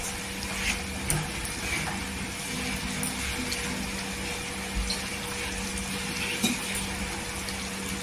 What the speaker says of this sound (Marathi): मी इथे 1 पेला पाणी टाकलेलं आहे।